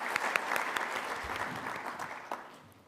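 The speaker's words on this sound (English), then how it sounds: "Could we have another round of applause for Mr. Shiga, please?" Audience applause closing the opening session of the REvision2017 renewable energy conference, a steady wash of many hands clapping that gradually fades out over about three seconds.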